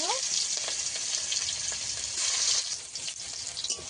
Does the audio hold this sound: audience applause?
no